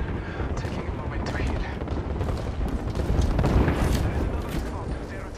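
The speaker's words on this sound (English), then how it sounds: "There is an air strike on our position" Air strike explosions rumble and crack in Apex Legends, a dense barrage of overlapping blasts and gunfire-like bursts that swells toward the middle and stays loud throughout, with game chatter faintly mixed in.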